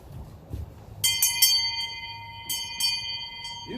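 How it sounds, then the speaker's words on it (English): An old hand-rung school bell at a county history museum, struck several times with bright ringing tones that linger and overlap, quite loud and close, with faint low background noise. "Who'd like to ring the school bell?"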